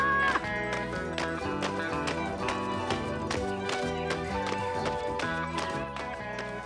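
A horse gallops in a cartoon as rhythmic clip-clop beats under lively music, quick and steady throughout.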